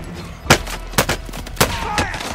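Gunfire in the Call of Duty Warzone video game: four sharp, loud shots spaced about half a second apart, each with a short ringing tail, over a steady bed of battlefield noise.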